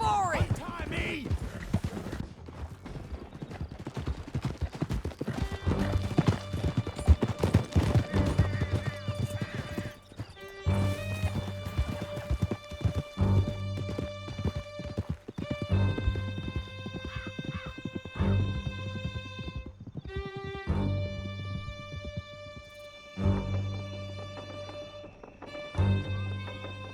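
Several horses galloping hard through a canyon in Red Dead, a dense run of clip-clopping hooves with occasional neighs, loud and close, while voices and gunfire-like bursts come through over the riding.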